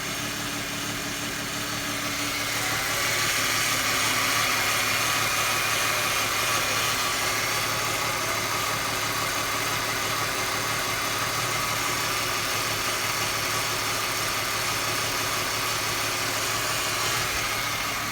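A 2001 Ford Mustang with a 3.8 V6 idles roughly with an idle fault, a steady mid-pitched engine drone with uneven vibration, heard close and alone throughout.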